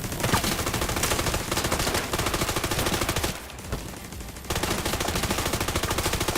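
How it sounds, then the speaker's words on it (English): Shotgun fire from The Division 2 video game comes as rapid, loud, continuous volleys of shots with one brief lull in the middle, and no talk. "Oh, I want to check this shotgun."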